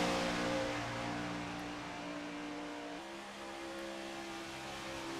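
Race cars at Daytona accelerating back to the green flag, a broad roar of engines that is loud at first, then eases slightly and holds steady, with no voices.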